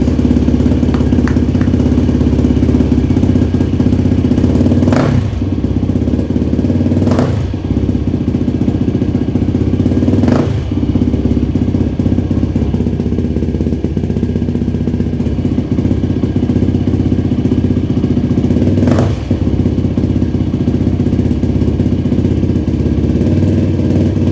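A Yamaha YFZ450 ATV engine runs steadily and loudly near at hand for the whole stretch, refitted with its OEM gas cap, with a few sharp blips or pops breaking through at intervals.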